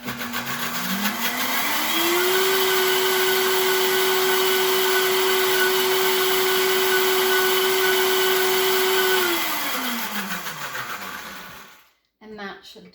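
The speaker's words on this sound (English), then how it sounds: "We're actually releasing the protein in the hemp by grinding it." A countertop blender grinds hemp seeds with lemon into a dip, its motor whining up to a steady high pitch for several seconds and then winding down to a stop, loud and close.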